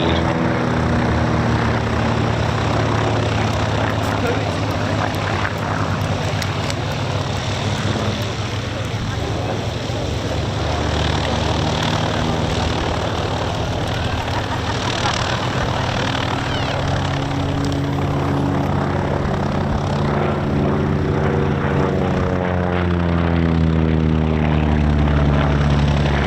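A de Havilland Mosquito's piston engines and propellers drone loudly and continuously as the aircraft flies aerobatic passes at an airshow, with a pitch shift near the end as it passes.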